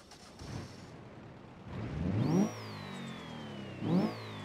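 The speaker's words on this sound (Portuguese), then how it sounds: "Bonito o barulho do motor." A Subaru engine in BeamNG.drive revs twice, pitch climbing sharply each time before falling back over a steady low idle.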